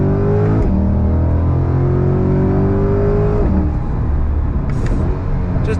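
A Chevrolet C8 Corvette Stingray without the Z51 performance package accelerates hard on throttle, its engine note climbing steadily, then dropping at a shift before pulling again; loud and close, with no talking.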